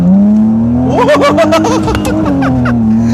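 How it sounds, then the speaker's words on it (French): A naturally aspirated BMW 325i engine revs hard, climbing and falling in pitch with sharp throttle blips, loud and close, then settling back to a steady idle. "Ça fait un beau bruit. Hein. Ça, c'est du vrai moteur."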